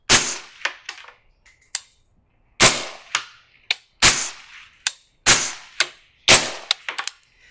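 Five loud, sharp suppressed 5.56 rifle shots from 16-inch piston guns fired about a second apart, each followed by a quick echo and smaller cracks.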